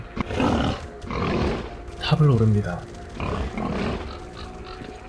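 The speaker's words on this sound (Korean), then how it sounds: "가까스로 변이 멧돼지의 공격을 피해" A mutant boar from STALKER: Clear Sky lets out a brief run of deep, rough grunts and a roar in the middle of the clip, close and fairly loud, while someone narrates over it.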